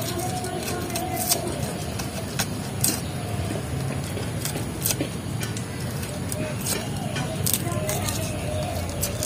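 Chopped taro flowers and a potato being washed under water, with steady splashing and spraying broken by sharp clatters and knocks at close range.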